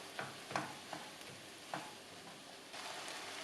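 Chicken meat frying in a pan with a soft, faint sizzle and occasional scraping clicks of stirring, the hiss thickening toward the end.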